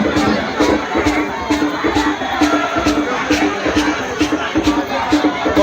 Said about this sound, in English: There's a convoy. And the cheering crowd.